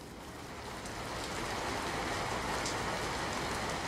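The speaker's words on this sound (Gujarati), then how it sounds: "ક્યાંક ધોધમાર વરસાદ તો ક્યાંક ધીમી ધારે વરસાદી માહોલ જામ્યો છે" Steady rain pours down during a monsoon downpour in Gujarat, a dense continuous hiss that builds slightly louder and holds, with no voices.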